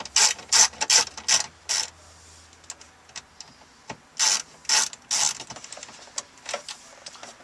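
A Phillips screwdriver, probably ratcheting, backs screws out of a Jeep Liberty car stereo, giving loud close bursts of rapid clicking in several rounds separated by quiet pauses, with no voices.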